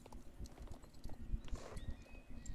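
Rhythmic clip-clop of horse hooves trotting steadily, fairly quiet, with faint background tones and no talking.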